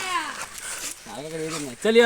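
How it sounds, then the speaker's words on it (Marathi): A dog gives a few short, high whimpers and whines in quick succession, near and fairly loud, with brief gaps between them. "आणि हा रातचा कुत्रा शेरू बघा आपल्या मालकाकडे आला"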